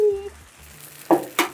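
Eggs fry in a pan for chilaquiles with a soft background sizzle, followed by two sharp close clinks of utensils against the pan, while someone talks briefly at the start.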